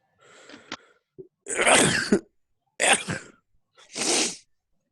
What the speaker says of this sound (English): No, just a cough.